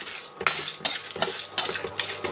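Ingredients for brinjal kulambu being stirred and sautéed in a pan, with a spoon clinking and scraping against the metal in several irregular strokes over a faint sizzle, close and without speech.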